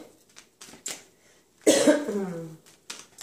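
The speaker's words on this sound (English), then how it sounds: "Excuse my coughing." A single harsh, close cough stands out, followed by a rough throaty exhale, with faint breathy sounds before and after.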